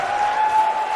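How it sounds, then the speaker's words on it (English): Wrestling arena crowd in WWE 2K19 roars and applauds in a steady, dense wash of cheering, loud and continuous for the whole second with no pauses. "by the sound of this crowd, I think they're getting what they wanted."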